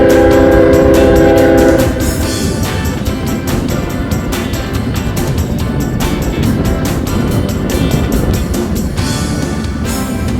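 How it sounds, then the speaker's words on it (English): A train rolls across the Harbor Park trestle, its loud horn sounding steady tones for about two seconds, followed by heavy rumbling and a rhythmic clatter of wheels as the cars pass close by. "Sound like we have a train coming."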